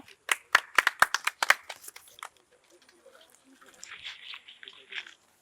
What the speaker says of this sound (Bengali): একটা জোরে হাততালি ওনার জন্য